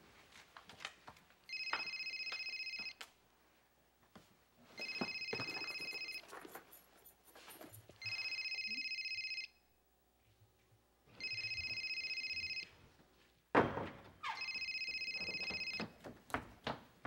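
A telephone rings five times in an indoor home scene, loud, evenly spaced electronic bursts separated by short pauses, before being answered.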